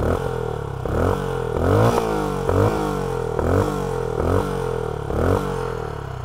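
Benelli 400 Imperiale motorcycle with a large sausage-shaped exhaust, its engine rising repeatedly through the gears and dropping back at each shift, a loud, throbbing vintage-style note heard alone.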